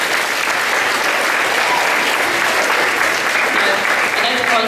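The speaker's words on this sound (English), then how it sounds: "So a big vote of applause to Miss Sweeney" Loud, continuous applause from a school assembly audience, dense and even throughout with a faint murmur of voices underneath.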